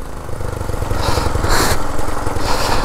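A vintage 1947 Whizzer Model H motorbike engine runs steadily while riding, a continuous buzzing drone close by that holds an even level throughout with no talking.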